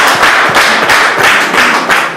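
Loud, close applause at a wedding celebration, with many hands clapping in a steady, rhythmic beat of repeated bursts and no voices heard.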